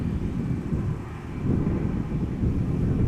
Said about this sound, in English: This is an A330 Neo. Following behind it is a regular quote-unquote A330-300.